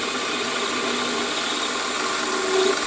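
A Warco metalworking lathe turns at about 900 RPM, giving a steady, even machine whir with a faint tonal hum, close by and uninterrupted throughout.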